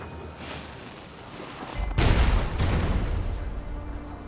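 Gunfire in the action game Wuchang: Fallen Feathers: a loud burst of shots and booms begins partway through, then lingers as a rumbling tail.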